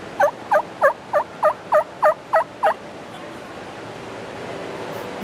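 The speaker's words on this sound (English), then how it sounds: "You're an expert turkey caller right there." Turkey yelps come from a diaphragm mouth call, with nine loud, evenly spaced notes sounded close by. They stop abruptly and leave a soft, steady hiss for the remainder.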